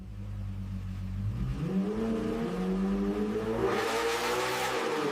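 A Lamborghini Temerario hybrid V8 engine revs up steadily from a low idle on a factory dynamometer in Sant'Agata, pitch rising and holding in a sustained, loud mechanical roar.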